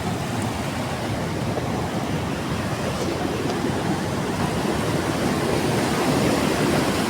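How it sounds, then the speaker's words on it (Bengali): A mountain waterfall stream among rocks on the Annapurna Base Camp trek, between Dovan and MBC, pours out a steady, loud, close rushing roar that stays even throughout, with no voices. "এইবার আরেকটা ঝর্ণা পেরোতে হবে"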